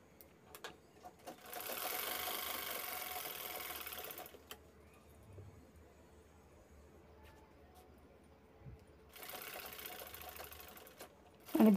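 A sewing machine runs in two loud bursts, stitching the side seam of a handbag pocket, with quieter handling noise between the runs.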